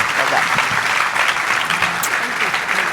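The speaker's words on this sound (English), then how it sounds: "Give them both a big round of applause." Loud, dense applause from a conference audience, close and continuous for a few seconds with no talk over it.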